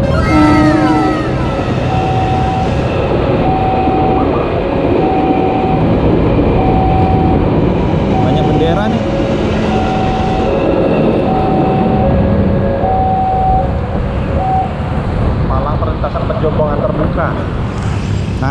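Train passing a level crossing near Palmerah in Jakarta, a sustained loud rumble with the crossing bell still ringing in a steady repeating pattern, while someone talks over it.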